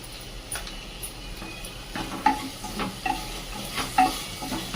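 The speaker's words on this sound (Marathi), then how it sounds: "कांदा व्यवस्थित परतत आलाय" Onion sautéing in a pan for coriander mint rice, a soft continuous sizzle broken by a few light scrapes and taps of a spoon stirring, close and moderate.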